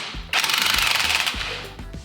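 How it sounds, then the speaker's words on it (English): A pneumatic impact gun hammers in one loud, rapid, continuous burst lasting under two seconds on the strut nut of a 2021 Mustang GT, close up, with softer clanks before it starts. "I use the impact gun to kind of compress this strut a little bit more."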